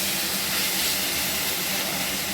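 Marinated chicken frying with onion and capsicum in a pan, giving a loud, dense, unbroken hiss of sizzling oil heard close up and alone.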